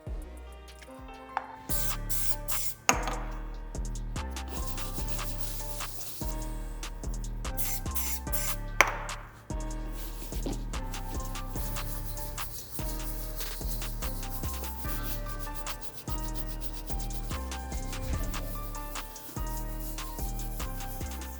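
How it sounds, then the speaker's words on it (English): Repeated hissy bursts of mink oil sprayed onto a brush and scrubbing strokes on a leather Air Jordan 1 shoe, with knocks and rubbing sounds in an irregular rhythm, fairly quiet and close. "I'm gonna spray the mink oil into the brush, then brush it into the shoe"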